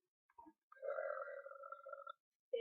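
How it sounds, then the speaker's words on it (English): A long, drawn-out burp lasting over a second, loud and close with a deep, rough tone and a short grunt just before it, followed by silence. "I think that's enough burp."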